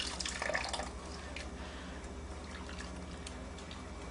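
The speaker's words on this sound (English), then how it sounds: "Ladle a little bit of this up with the juice" Thin beef gravy juice being ladled, with liquid dripping and trickling back into the pot in a short, quiet, close-up burst that settles into faint wet background sound.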